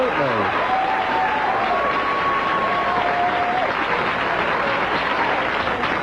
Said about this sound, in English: Yeah, well, you can applaud.